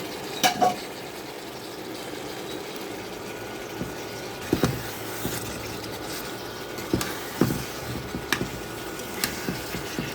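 Roast spice masala being stirred and fried in a pan, a soft continuous sizzle broken by occasional scrapes and knocks of the spoon against the pan, close and fairly quiet with no talk.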